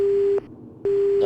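A telephone hang-up tone from the video game Resident Evil Survivor: a steady, loud electronic beep that cuts off briefly and resumes, heard alone.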